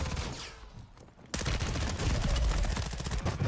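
Sustained rapid automatic gunfire empties a full magazine in Warzone 3, dense and loud right up close after a brief quieter lead-in.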